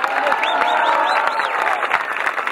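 A large crowd at an outdoor political rally in Parque Saavedra applauds loudly, dense clapping with scattered whistles and cheers rising above it for a few seconds.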